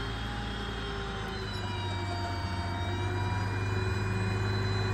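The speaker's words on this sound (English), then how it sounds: "We got our stow function. It's a hydraulic stow." A hydraulic stow on a 2015 Ford F-550 with a 42-foot Altec AT37G bucket boom and a gasoline V10 engine, a steady, loud low engine drone with a constant hydraulic whine running through it, no talk.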